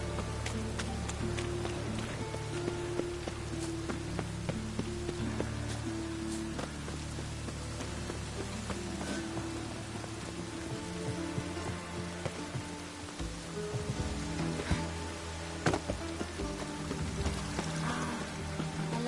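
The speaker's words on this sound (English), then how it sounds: "It's raining again." Rain falls steadily in a constant hiss of drops, with low musical tones and occasional sharper taps running beneath it.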